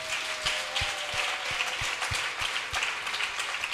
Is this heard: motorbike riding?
no